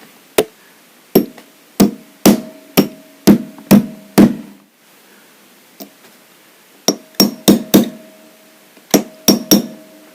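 Sharp metallic hammer taps drive pins into a Webley Raider 10 air rifle during a service, a close, loud series of single ringing strikes in irregular bursts with short pauses between groups.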